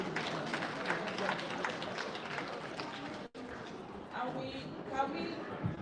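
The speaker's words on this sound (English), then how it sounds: "Can we give a round of applause for Dr." Audience at a book launch applauding, with a steady patter of many hands clapping. It pauses briefly, then continues more thinly with background voices.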